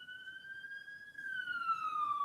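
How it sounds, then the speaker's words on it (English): A single wailing emergency siren heard from a moderate distance, a clear steady tone that holds and then slowly falls in pitch, alone over faint background noise. "Fire sirens."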